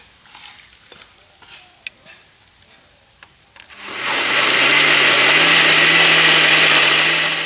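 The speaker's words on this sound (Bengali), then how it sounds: "একটু মিক্সিতে গুঁড়িয়ে পেস্ট করে নেব" A soft clink and handling of a jar comes first, then a mixer grinder starts up and whirs loudly and steadily as semolina batter is ground into a sticky paste, running close and continuous to the end.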